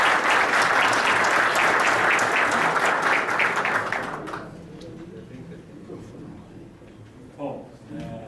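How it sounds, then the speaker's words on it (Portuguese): An audience at an inauguration ceremony claps loudly for about four seconds, then the applause cuts off, leaving a quiet room with faint murmurs and a brief clatter near the end. "Uma salva de palmas."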